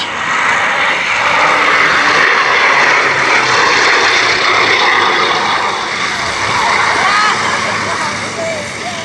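The engines of a Bristol Blenheim light bomber drone steadily at the East Kirkby airshow in Lincolnshire, a broad, sustained roar that swells and eases slightly while a commentator talks over it.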